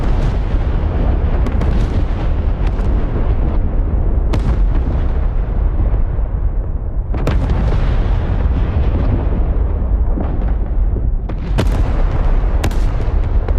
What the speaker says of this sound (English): Look, they're still blowing up.